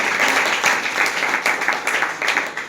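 A classroom of students clapping loudly together, a dense, continuous burst of applause filling the room with no pauses.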